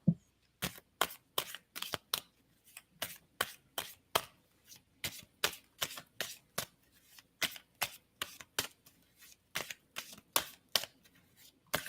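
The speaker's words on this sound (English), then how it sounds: "Tell me when I should stop shuffling." Tarot cards are shuffled in a steady run of crisp riffling snaps, close up and alone, repeating rhythmically throughout.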